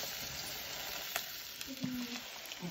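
Meat for wachipa sizzles in a hot pan, a steady frying hiss with a few stirring scrapes and clinks, close and moderately loud, with no talk.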